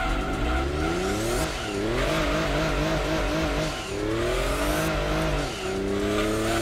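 A Lexus SC 300 drift build in Gran Turismo 2 slides through corners with a loud, steady engine drone and long, sweeping tire squeals that rise and fall across several drifts, with no talking.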